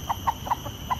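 Chickens in a village cluck in short, quick, close bursts, about five sharp clucks in a second over a faint steady background hum.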